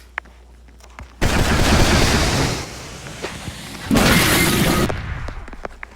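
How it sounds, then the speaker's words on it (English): In a Retrostudio video game, a bomb goes off with two loud bursts of explosive crackling, each lasting around a second or more, separated by a quieter gap. "Now bomb Jeff to kill her"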